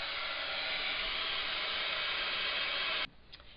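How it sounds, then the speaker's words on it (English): A heat tool blows hot air to dry a paper card, making a steady airy hiss that stops abruptly near the end and leaves faint handling noises. "I'm just going to use my heat tool and flatten it out a little bit."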